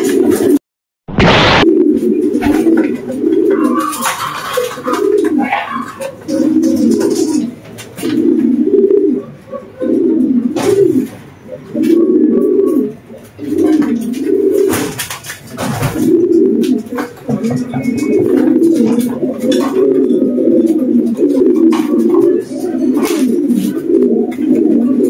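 Racing pigeons cooing loudly and close, with repeated low throaty coos in a steady rhythm and a brief sharp bump near the start.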